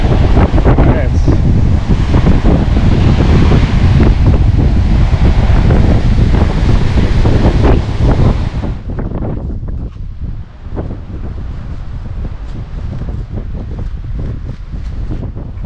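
Wind and waves on the Rio de la Plata shore at Montevideo, loud and steady, with strong gusts buffeting the microphone for about eight seconds before easing into a quieter, rumbling wash of surf.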